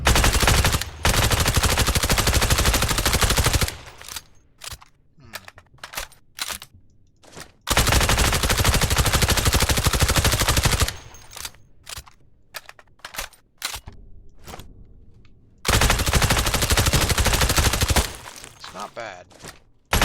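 An AUG rifle fires in the video game Badlanders in long sustained automatic bursts, loud and close, broken up by shorter clusters of rapid shots and brief pauses between bursts.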